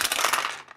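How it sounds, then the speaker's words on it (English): Dice tumbling down through a goth-style dice tower, a quick burst of hard clattering rattles lasting under a second and fading out at close range. "There's something really satisfying about just dropping your dice through a dice tower"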